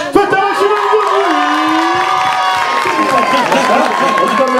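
A studio audience at a French television show cheers, whoops and shouts loudly, with children's high voices and clapping blended into a dense, sustained roar.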